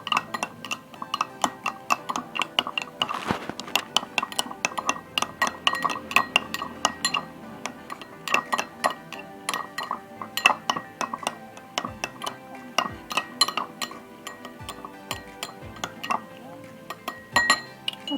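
Baking soda solution stirred in glasses during a simple biochemistry lab on salivary alpha-amylase, with rapid, continuous clinking and tinkling of a stirrer against glass, close and bright, under occasional speech.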